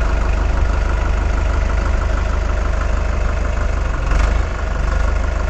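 A 2021 Farmtrac 6055 T20 Powermax tractor engine runs in second low gear, giving a loud, steady diesel rumble with a rapid knocking pulse close by, alone and unbroken throughout.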